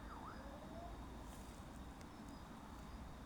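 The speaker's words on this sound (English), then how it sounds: "Well, that's a new siren." An emergency siren wails faintly in the distance, a thin sweeping tone over steady outdoor background noise.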